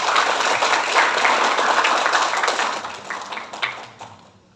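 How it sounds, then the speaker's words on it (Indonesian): A hall audience applauds for the speaker's husband with dense, steady clapping that holds for several seconds and then quickly tapers off. "Tepuk tangan untuk suami saya."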